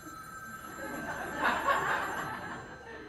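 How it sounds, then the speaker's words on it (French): Onstage telephone ringing as a theatre sound effect, a steady mid-level electronic ring that swells and fades over a few seconds, with soft audience chuckles and murmur beneath. "Téléphone."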